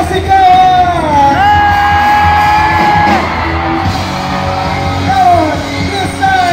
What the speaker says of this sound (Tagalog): lagyan natin na malakas na sigawan